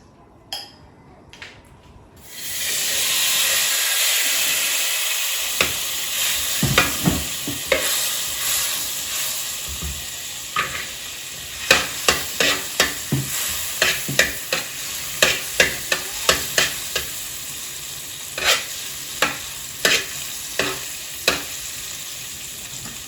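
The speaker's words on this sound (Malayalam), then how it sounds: "ഇനി നമുക്ക് കുറച്ച് കാഷ്യൂ പിന്നെ അതുപോലെ റൈസിൻസും വറുത്തെടുക്കാം കേട്ടോ." Cashews and raisins fry in hot oil for a prawn biriyani, a bright sustained sizzle rising after a quiet start, with repeated clinks and scrapes of a spoon against the pan, close by and without voices.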